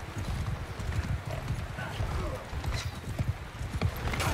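Horse hooves clip-clopping in the medieval combat game Mount & Blade Bannerlord, a steady rapid rhythm of close hoofbeats from a galloping mount with battle noise behind and no talk over it.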